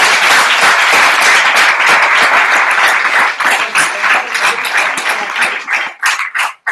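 Loud, sustained applause from a group at a training session, dense clapping that holds steady and then thins into scattered individual claps as it dies away.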